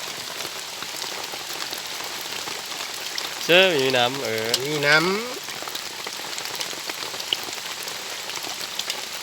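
Steady rain patters down on a surface, a constant hiss, while someone speaks briefly partway through.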